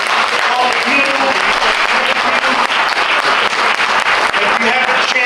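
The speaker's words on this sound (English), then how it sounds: "I want to give a big round of applause to all the teachers, counselors, Five Keys, everybody, all the people" Crowd applause for teachers and counselors at a Five Keys art show in San Francisco, sustained dense clapping from a roomful of people with voices mixed in.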